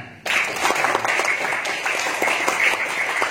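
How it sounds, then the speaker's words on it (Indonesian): An audience at a hotel anniversary religious talk breaks into applause, a sudden onset of steady clapping that continues evenly for about three seconds. "Tepuk tangan."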